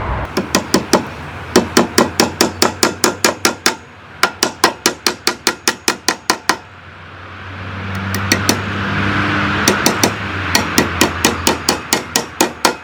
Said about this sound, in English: We'll just hammer them in and then hammer them into the main frame.